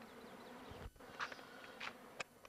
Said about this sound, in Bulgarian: изчакай там да дойдат тия последните пчели